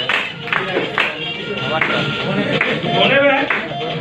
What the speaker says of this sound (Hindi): तो एक जोरदार ताली उसके लिए भी